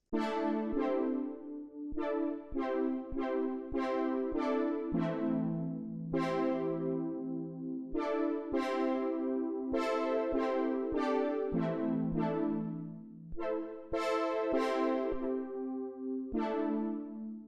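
Bright plucked synth chords, randomly generated pentatonic chords from Ableton Live MIDI effects, ring out in an irregular, wandering pattern, each one decaying before the next, with no voices.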